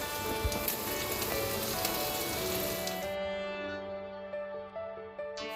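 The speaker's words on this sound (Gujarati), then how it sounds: "હળદર તેલમાં બરાબર ફ્રાય થશે" Turmeric frying in hot oil with garlic, ginger, chillies and onion for a potato sandwich filling, a steady close sizzle that drops to a quieter, settled hiss midway.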